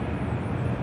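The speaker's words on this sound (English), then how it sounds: "I believe that's the first Korean Air 747 ever glimpsed on this channel." A Korean Air Boeing 747 bound for Seoul from Atlanta rumbles steadily with a broad, distant jet roar at Louisville International Airport, heard alone for under a second.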